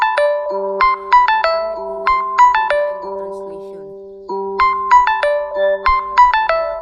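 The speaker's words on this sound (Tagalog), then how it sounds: "cellphone," A cellphone ringtone plays loud and close, a bright repeating melody of chiming notes in two bursts separated by a short pause.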